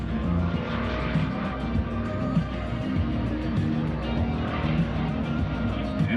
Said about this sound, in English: There goes our first race down the runway.